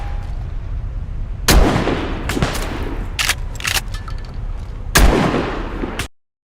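Gunfire in the survival video game DayZ on the Livonia map, several loud sharp shots spaced irregularly across a few seconds, booming and close, with echoing tails and a steady ambient hiss between them.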